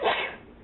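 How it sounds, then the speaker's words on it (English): A single sharp sneeze bursts out close up, brief and loud before trailing off, in a home kitchen during allergy season. "Oh, I'm going to sneeze."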